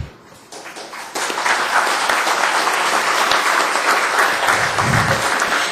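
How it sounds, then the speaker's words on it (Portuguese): Audience applause at a public OAB RS session in Gramado, Brazil. A dense, steady clapping starts after a short quieter lead-in and then holds loud and continuous. "Nossos mais efusivos aplausos, de Curitiba para Gramado, Elias Matar Assad, presidente."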